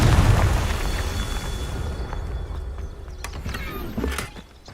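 The Confringo fire spell in the Hogwarts Legacy video game goes off as a loud boom that opens the clip and rumbles away over several seconds. Crackling debris follows, along with a smaller burst near the end.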